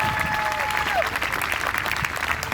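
Audience applause at a people's town hall after a speaker named Carmen, a dense steady wash of many hands clapping, with a faint voice tone briefly audible near the start.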